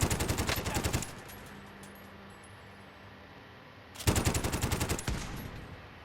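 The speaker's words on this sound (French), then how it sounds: "on m'a tiré une balle" Automatic gunfire in the video game Call of Duty: Warzone comes in two rapid, loud bursts of shots, separated by a few seconds of quiet background with a faint steady tone.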